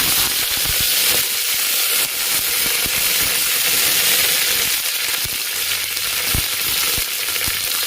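Green chillies and curry leaves crackle and sizzle loudly in hot oil with chana dal while a vegetable biryani is made, a continuous hiss topped by sharp popping spatters.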